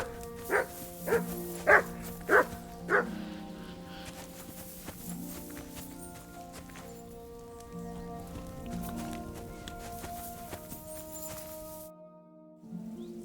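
A dog, the hound Mutt in Kingdom Come 2, gives five quick barks in a row, then falls quiet beneath sustained game background music.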